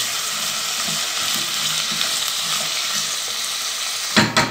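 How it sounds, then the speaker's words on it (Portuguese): Ingredients for shrimp bobó sauté in a pan with a loud, dense, continuous sizzle, ending with a couple of scraping stirs of a utensil. "Vou mexer um pouco, dar uma refogada nessa."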